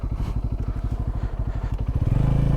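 A Bajaj Pulsar N250 motorcycle engine chugs in a fast, even pulsing rhythm close by on a highway, rising in pitch slightly toward the end as it speeds up.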